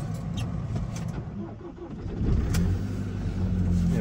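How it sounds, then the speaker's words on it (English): Camper van engine turning over and catching on a cold winter morning, settling into a steady, fairly loud mid-pitched running rumble. "it's not that cold this morning, so the engine should just start no problem"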